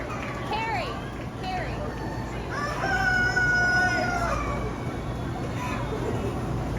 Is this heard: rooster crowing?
yes